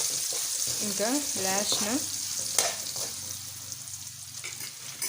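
Green and dried red chillies frying in oil for lemon rice give a steady sizzle under a woman's speech, with stirring scrapes and a few sharp pops.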